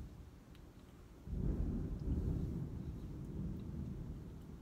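Low, heavy thunder rumble from an anime episode, starting quietly and swelling abruptly into a loud, sustained roll that slowly eases off, with no voices over it.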